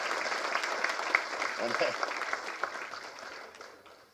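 Applause from an audience at a Tamil film trailer launch event, brisk clapping that gradually thins and fades out, with a voice briefly heard over it.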